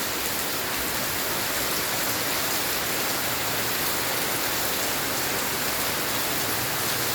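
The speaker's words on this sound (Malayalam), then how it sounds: "രാവിലെ മുതൽ തുടങ്ങിയ മഴയാണ് കാണാം" Heavy monsoon rain in Wayanad pours down in a dense, continuous roar, loud and unbroken, with no voices.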